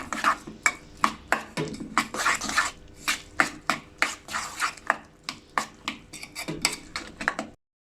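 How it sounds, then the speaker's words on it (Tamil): A spoon mixing cumin powder and salt into grated zucchini in a bowl gives a quick, regular run of clinks and scrapes, about twenty close, crisp knocks, with no talking until it stops abruptly. "இப்போ இதை மிக்ஸ் பண்ணிக்குவோம் நல்லா."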